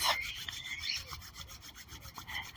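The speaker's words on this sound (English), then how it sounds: "bring your hands together and just rub them together, creating some heat." Two hands rub together briskly in a quiet indoor space, a soft continuous rasping friction with a steady back-and-forth rhythm, close and faint, with no voices.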